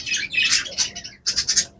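Pet birds given a calcium supplement chirp and tweet while they come down to eat, with bright, close bursts of calls in two clusters separated by a short pause.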